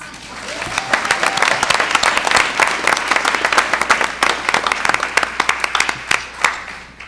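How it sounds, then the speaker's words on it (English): An audience at a school board candidate forum gives sustained applause, dense steady clapping from a roomful of people that holds for several seconds with a few sharper claps standing out near the end. "Let's show our appreciation with a round of applause for the sponsors"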